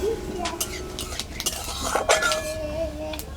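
Dried red chillies and panch phoron tempering stirred in a pan for aloo posto, with a few light metal spoon scrapes and clinks against the pan over a faint background hum.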